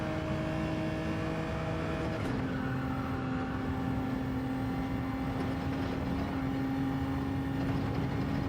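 A race car engine in Gran Turismo 7 drones steadily, its pitch dropping sharply as it bogs down, then holding a lower, strained tone with no talk.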